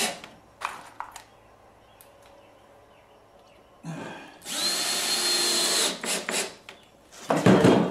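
A power saw on a homemade shop cutoff jig cuts a piece of wood, starting after a few quiet knocks with a loud whining burst, pausing briefly, then whining again in short close bursts.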